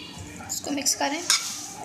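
Chana chaat is stirred with curd in a bowl, a few short spoon scrapes and soft clinks against the dish, close and brief.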